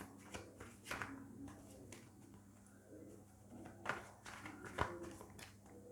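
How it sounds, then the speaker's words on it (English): Soft papery shuffling of tarot cards in short bursts, with a few sharper flicks and taps, close by, with birds cooing faintly in the background. "So I'll quickly shuffle for this week"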